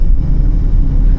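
A 2005 Maruti Suzuki Baleno 1.6 accelerates hard in second gear, its engine droning loud and steady with a dense low rumble that holds throughout, with no talk over it.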